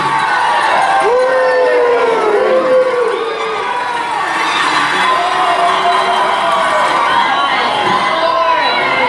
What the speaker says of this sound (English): So it's an onside kick. And everybody screams.